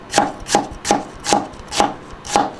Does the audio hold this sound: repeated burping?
no